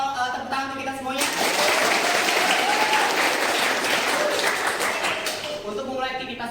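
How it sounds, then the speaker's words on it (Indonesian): An audience applauding at a morning gathering, a sustained burst of many hands clapping that rises abruptly, holds for several seconds and fades, with a voice speaking just before and after. "boleh kasih kita tepuk tangan untuk kita semuanya"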